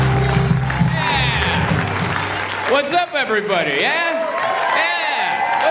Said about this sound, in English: you uncrossed your arms and clapped for a second